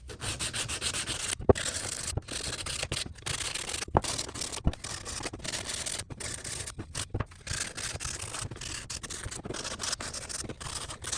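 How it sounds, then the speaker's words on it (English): Steady rasping strokes of 120-grit sandpaper rubbed by hand along wooden edges, continuous scratchy friction with brief pauses between passes, close and moderately quiet, with no talk. "you want to sand the edges, right? You're going to do this by hand. Just grab a piece of sandpaper here. I have 120 grit."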